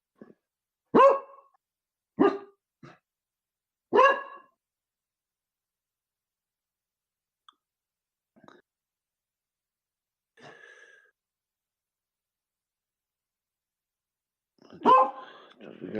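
A dog gives several sharp, loud barks close by in quick succession, then falls quiet with only faint scattered sounds, before a final burst of barking at the end.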